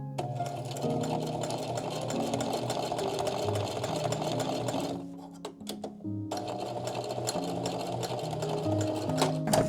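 Sewing machine stitching Velcro onto homemade dog winter booties, running steadily and loudly, pausing briefly midway before resuming its fast, even whir.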